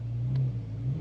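A Porsche 2.9-litre turbo engine in sport mode, a brief, loud, close exhaust drone with a low steady rumble held for about a second.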